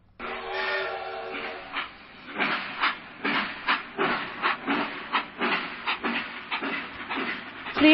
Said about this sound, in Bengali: ট্রেন আসার শব্দ।